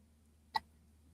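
A single short hiccup from a young child, one brief isolated burst in an otherwise quiet room with a faint low hum.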